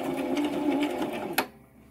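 A sewing machine back-stitching zigzag stitches on felt runs steadily at close range, then stops abruptly with a sharp click, leaving near silence.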